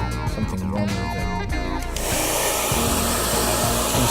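A handheld blow dryer heating the headlight lens of a 2018 Volkswagen Golf R in February, its loud steady broadband whoosh rising to full blast midway, with a voice over the start.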